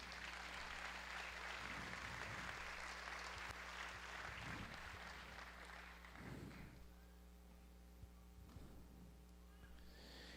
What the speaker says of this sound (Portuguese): Então você pode dar uma salva de palmas para ele?